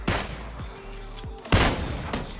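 Gunfire in the battle royale game PUBG: two loud, sharp blasts about a second and a half apart, each cracking out over low background game noise.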